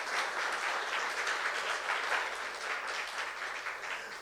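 Steady applause from a church congregation during a youth service, a continuous, even wash of clapping that stays at moderate level throughout with no voices standing out.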